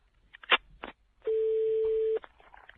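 A steady telephone line tone sounds for about a second while a call is placed on a French phone line, with short clicks and dialing blips before it and a faint click after.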